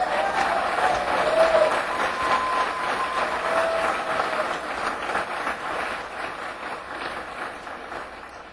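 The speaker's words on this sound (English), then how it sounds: "he deserves an applause, too." Audience applause at a 2010 election celebration party for Ron and Rand Paul, a steady wash of clapping from a crowd that stays fairly even for several seconds and slowly thins toward the end.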